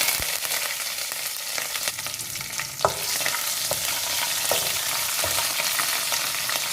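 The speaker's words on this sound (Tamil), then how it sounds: "இப்போ தாளிக்கிறதுக்கு கடுகு உளுத்தம் பருப்பு சேர்த்துக்கிறேன்" Mustard seeds, urad dal, cumin, dried red chillies and curry leaves sizzle and crackle steadily in hot oil, a dense continuous fry with scattered sharp pops and occasional stirring clicks, close and fairly loud with no talking.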